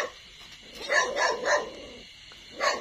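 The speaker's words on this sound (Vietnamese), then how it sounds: "Chó sủa quá trời." Dogs at a rice-farming homestead bark in a quick burst of several yips and barks, close and moderately loud, then fall quiet before another bark near the end.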